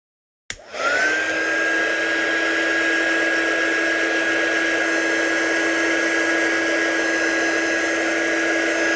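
A heat gun blowing air to dry craft work switches on abruptly and then runs as a loud, steady whirring whine that holds unchanged until the end, with no talking.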